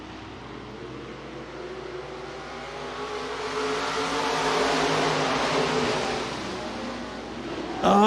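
Sport compact race cars accelerate at the green flag on a county speedway oval, their engine roar swelling from the distance, peaking, then fading again.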